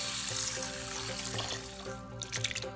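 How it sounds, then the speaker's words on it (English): Tap water runs steadily into a sink as red lentils and Basmati rice are washed, with a continuous rushing stream and faint rhythmic sloshing, fairly close and without talk. "Wash and drain."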